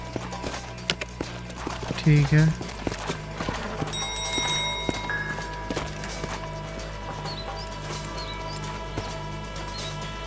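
Horses' hooves clip-clop at a walk in the Red Dead Redemption game, steady close hoofbeats over ambient game sound and music, with someone speaking briefly.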